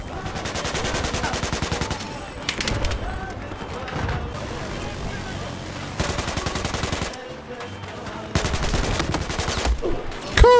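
Rapid automatic rifle fire in the shooter game Battlefield 2042, with loud, sustained bursts broken by brief pauses across the whole stretch and a final sharp crack at the end.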